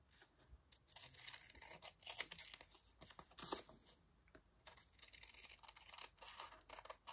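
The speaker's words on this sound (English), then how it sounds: "And now we just need to trim around the edges." Scissors trim around the edges of a paper junk-journal card, giving a run of crisp, close snipping and rustling cuts that repeat irregularly with no speech.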